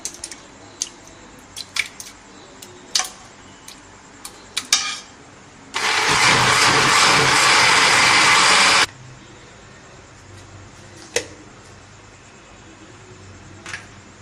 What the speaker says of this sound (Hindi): अब हम इसे ग्राइंड कर लेंगे।